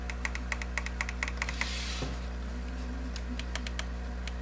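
Small plastic buttons clicking on Xbox-style Joy-Con controllers, a quick run of light, crisp taps over a steady low hum, with a brief pause midway.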